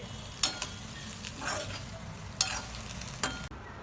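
A spoon stirs boiled egg bhurji in a hot pan, with a few sharp scrapes and clinks over a soft continuous sizzle, close and clear with no talking.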